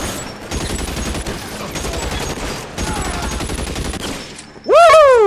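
Rapid, loud Tommy gun bursts rattle almost continuously in the video game L.A. Noire, sustained automatic fire with brief pauses, ending in a sharp louder burst and a whooshing ricochet-like tone.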